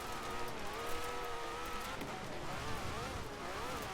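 A Jaguar C-X75 in Forza Horizon 4 drives with a high, revving engine note that rises and wavers under game noise, steady and moderately loud across four seconds with no speech.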